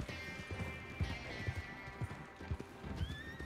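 Horse hooves clip-clop in a quick, uneven gallop in the Red Dead Online video game, with a short whinny toward the end; the hoofbeats are fairly faint and come with a low background rumble.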